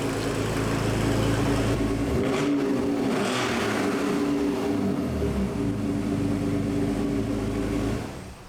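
An Alfa Romeo 147 GTA engine runs steadily at close range, its low rumble shifting in pitch as the car creeps forward onto a workshop ramp and revs slightly.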